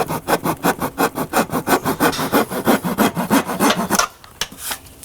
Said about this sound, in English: I'm keeping the blade of this saw also slightly back on the angle again